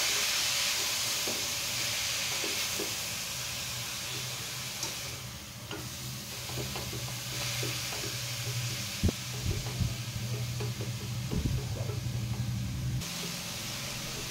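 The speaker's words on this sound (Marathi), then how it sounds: "व्यवस्थित आपण हे परतवून घ्यायचं आहे तुपामध्ये।" Grated bottle gourd sautéing in ghee gives a steady, close sizzle and hiss, with occasional spoon scrapes and knocks against the pan running through it.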